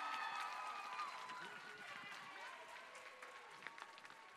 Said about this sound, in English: Can we give Matty just a round of applause?